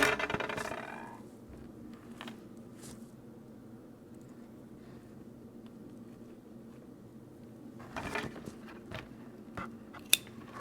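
Pruning shears cutting pothos (Epipremnum aureum) stems just above the node, with a few crisp snips close by at the start and again near the end, separated by quiet handling rustle.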